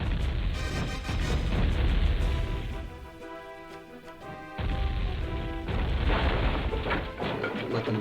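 Warcraft 2 cannon towers fire heavy booming shots with crashing impacts, loud and dense through most of the stretch, easing briefly in the middle before another burst of blasts.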